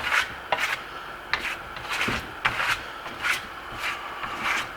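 A steel trowel spreads a thin coat of brown Venetian plaster over a wall in rhythmic, raspy strokes, each sweep a short scraping rub repeating about twice a second, close and moderately loud, without talking.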